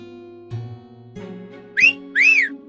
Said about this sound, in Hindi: जोर से सीटी मारा